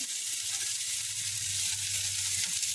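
Green chili dropped into hot oil for tempering sizzles steadily with a dense crackling hiss, close and constant throughout with no voices.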